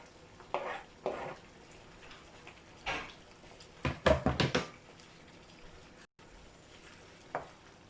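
Seasoning is stirred into mackerel frying in a pan for a run down dish, heard as a few scattered scraping knocks and a brief cluster of spoon clatter over a faint sizzle, with no talking.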